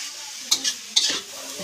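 Leafy greens with a little salt stirred in a frying pan, two quick scraping sizzles from a spatula, brief and close against a quiet kitchen.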